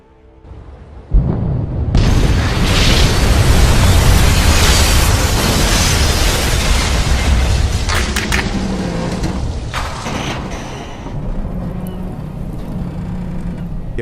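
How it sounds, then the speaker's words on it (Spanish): A loud explosion rips through the hospital ship HMHS Britannic: a sudden heavy blast followed by a long, dense roaring rumble that slowly eases off. "el silencio fue destrozado por una fuerte explosión"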